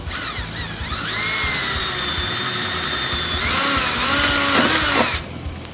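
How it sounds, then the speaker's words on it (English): A handheld power drill bores a 3/8-inch hole for a choke cable, a close, loud whine that revs up, holds steady, pitches up again mid-cut, then stops abruptly after about five seconds. "Okay, so we're going to drill a little hole under here"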